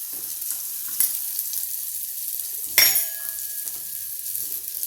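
Spices for a samosa tempering sizzle steadily in hot oil, with a spoon scraping and clinking against the pan, and a sharper burst of sizzling midway as turmeric and green masala are added.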